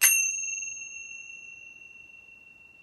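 Small bells struck together like cymbals give one bright ring with clear high tones that hangs on and slowly fades out alone.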